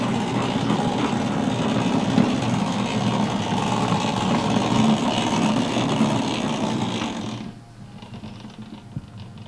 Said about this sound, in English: These two will be pulled out together and shunted into the goods yard.